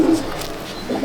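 A hand-held pigeon, a Giriya male or a Gola-line female, gives a brief, close coo lasting about a second.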